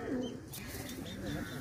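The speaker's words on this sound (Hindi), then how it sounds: "बहुत ही बड़ा कबूतर है जी ये" A large pigeon of a famous paired breed from Sialkot coos softly, a low burbling call repeated a few times close by over faint background noise.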